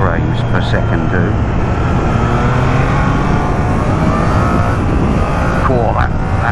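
A motorcycle engine howls loudly and steadily under hard acceleration, heard from a helmet camera amid heavy wind rush, with the rear wheel on Michelin tyres slipping under power.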